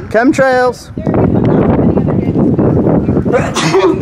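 A sharp, loud sneeze bursts out at the start, followed by someone talking nearby over a continuous windy rush.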